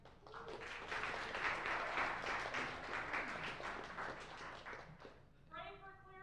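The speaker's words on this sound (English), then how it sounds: "Big round of applause for the Scobie." An indoor crowd at an astronomy talk night in San Antonio, Texas gives a sustained round of applause that rises and then fades, followed by a voice starting to speak.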